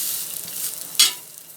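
Bread omelette frying in oil on a pan, a steady close hiss of sizzling with a brief sharper crackle near the end.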